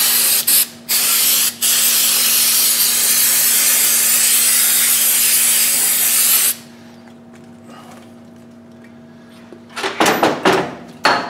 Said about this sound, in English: I blew it off with compressed air.